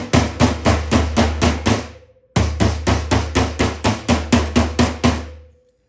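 Rapid, evenly spaced metallic hammer blows on a dented metal car door ring out close by in two bursts of about seven and eleven strikes, with a short pause between.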